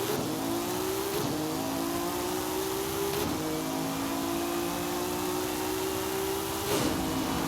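A tuned car with 25 pounds of boost launches off the brake in Forza Horizon 5 and accelerates hard, its engine note climbing steadily through several upshifts, loud and close.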